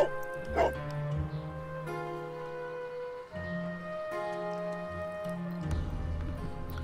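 Dog in the Sherlock Holmes: The Devil's Daughter game, giving several short barks and yips over a tonal musical background, moderately loud and spread across the clip.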